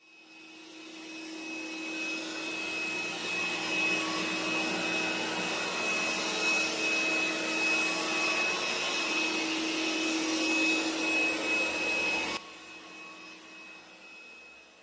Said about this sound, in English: So the W10 has two counter-rotating mopping pads which spin about 180 times per minute